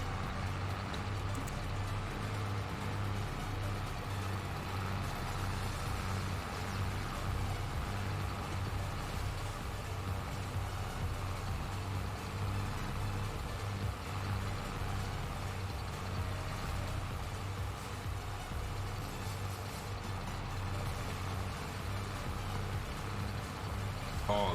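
A tractor engine runs steadily in Farming Simulator 22 on Calmsden Farm, a continuous low droning hum that holds at an even level throughout with no talk over it.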